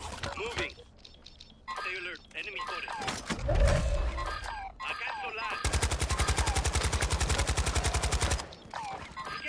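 Gunfire in a multiplayer video game shooter: scattered single shots, then a long rapid machine-gun burst of about three seconds, with players talking over headsets around the shooting.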